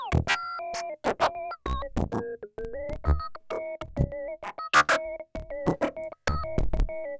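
Glassy, bell-like tones from a Make Noise Soundhack Spectraphon spectral oscillator strike in rapid irregular succession, each with a bright metallic ring, close and alone.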